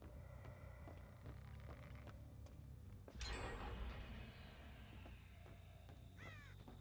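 A crow caws a few times at a distance over quiet ambient noise in the video game Dead by Daylight, with a sharp burst of noise midway.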